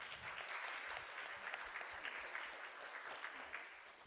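An audience at a rehabilitation and independence department's academic festival claps in a sustained, even round of applause, heard at a moderate distance with no talking over it.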